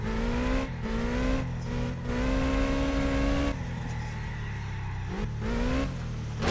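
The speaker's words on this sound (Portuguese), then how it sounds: "E é difícil fazer drift com esse carro, viu, velho?" A car drifting in first gear revs loudly and repeatedly, its engine whine climbing through several throttle bursts that briefly drop off before surging again, close and continuous.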